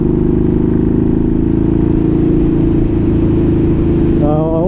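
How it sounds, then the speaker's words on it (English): A Yamaha Bolt R-Spec V-twin motorcycle with a fairly open air cleaner rumbles steadily while being ridden, a loud, close, continuous low thump and intake roar that rises slightly at the end. "It just has that nice thump to it, V-twin thump. The intake noise is awesome."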